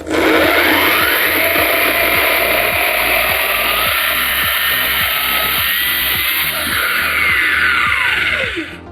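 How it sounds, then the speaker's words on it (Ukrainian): An AL-KO petrol generator runs under load while a power tool saws through dry wood, a loud continuous close-up engine drone with a steady pulsing beat and a high whine riding over it throughout. "Та взагалі без проблем генератор працює, як ви чуєте."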